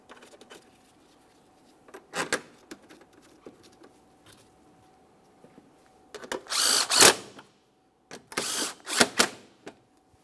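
A power tool on a 2014-2018 Mazda 3 radiator and condenser fan assembly drives mounting bolts in two short whirring bursts, close and fairly loud, separated by quiet clicks and handling noise.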